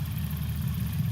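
A light STOL aircraft engine at a Sodbusters short-takeoff competition, a steady low droning hum, close and continuous for a brief moment.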